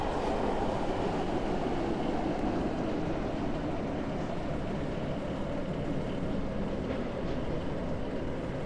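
A train running in the video game Stepford County Railway (SCR), a steady rumbling roll of wheels and carriage noise, continuous and even in level throughout, with no announcements or talk.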